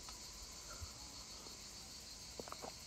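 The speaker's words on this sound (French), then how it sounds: "On entend les cigales, ok, c'est cool." A steady high-pitched insect drone fills the air outdoors, faint and continuous, with a few small clicks near the end.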